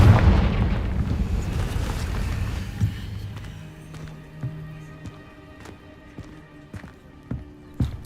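A Confringo spell explodes in Hogwarts Legacy, a loud low boom at the start that rolls off into rumbling debris, followed by scattered smaller thuds and impacts.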